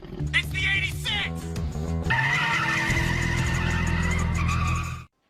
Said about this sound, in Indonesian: There's a car coming! It's the 86!